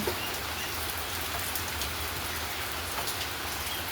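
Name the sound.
rain falling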